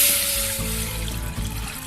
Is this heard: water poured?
yes